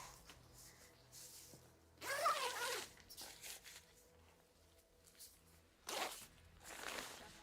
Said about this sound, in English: We'll zip it up.